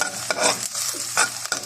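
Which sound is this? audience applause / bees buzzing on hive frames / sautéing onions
sautéing onions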